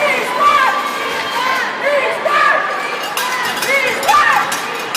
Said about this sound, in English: The Eastman crowd here trying to cheer on their boys